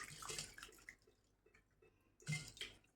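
A silver lamp is washed in water near a stove, giving splashy sloshing and dripping bursts with quiet gaps between, close and fairly soft, with no talking.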